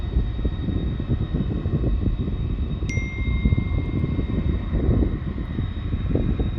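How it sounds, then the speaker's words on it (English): An MD-11 jet taking off from DFW International Airport on a summer morning: a steady, broad engine roar that holds at a moderate level throughout, with a brief sharp ding partway through. "another MD-11 off to Louisville. It took off from this side of the airport."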